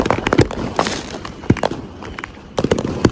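Fireworks go off outdoors in scattered sharp pops and crackles, loud at first, thinning out in the middle, then picking up again.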